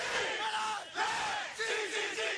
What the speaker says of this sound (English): In one case, a cheer.